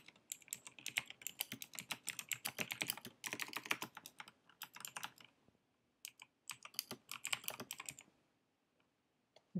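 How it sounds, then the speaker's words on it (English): Typing on a computer keyboard while coding, close and fairly quiet, with rapid irregular clicks in busy runs, short pauses, then a few scattered keystrokes near the end. "So for the first one, I'm going to type some placeholder."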